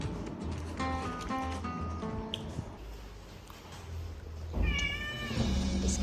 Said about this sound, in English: And this cat has come to devour me.